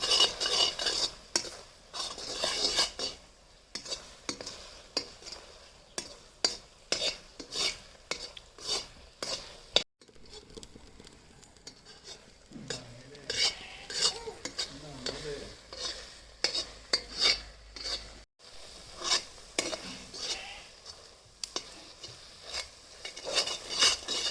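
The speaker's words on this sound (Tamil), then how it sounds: "நல்லா கெட்டியாக வந்துட்டுருக்குது. நம்ம வந்து இப்படியே மிக்சிங் பண்ணிகிட்டே இருக்கலாம்" Thick jackfruit halwa being stirred in a pan: a steady run of close scraping and slapping strokes against the metal, with a soft sizzle underneath and no talking.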